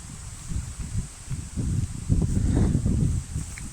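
Strong wind buffets the microphone in low, rumbling gusts that swell and ease, with rustling noise and no voices.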